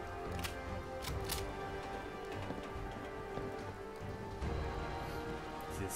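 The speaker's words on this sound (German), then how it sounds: "Sauwetter, warum setzt denn jetzt der Regen ein" Rain falls steadily across the Fallout 4 game world, a constant hiss of drops on surfaces with a few sharper splashes, moderately loud and unbroken with no talking.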